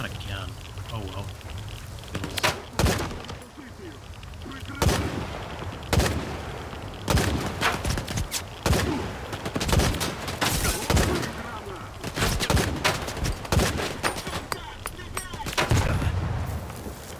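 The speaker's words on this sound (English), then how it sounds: "Shooting through the fence is not helping these guys." Gunfire in S.T.A.L.K.E.R. 2 comes as sharp, loud shots, singly and in rapid clusters, spread irregularly over a steady background hiss, with someone talking between and over the bursts.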